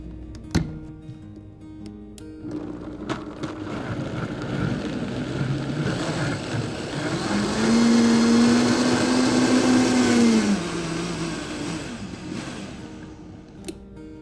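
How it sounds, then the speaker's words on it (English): A high-speed blender purees plant-based mac and cheese sauce with a loud, steady whirring roar that runs for about fourteen seconds, rising slightly in pitch and strain midway before settling. "This is a high-speed blender, so you should get a nice creamy consistency in about 30 seconds or so"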